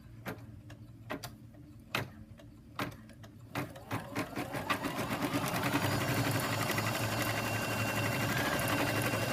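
An embroidery machine stitching a purse design starts with a few separate mechanical thumps, then speeds into a steady, rapid close-up chattering hum that continues to the end.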